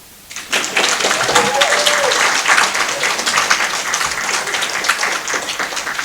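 An audience at a Project Read tutor appreciation event claps warmly for volunteer tutors, a full burst of applause that starts abruptly and stays loud before easing slightly, with a voice briefly audible underneath.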